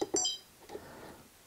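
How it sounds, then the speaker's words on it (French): An Izeeker IG220 trail camera gives two quick electronic beeps at the start as settings are changed, followed by quiet handling sounds. "vous entendez les petits bips à chaque fois que je change"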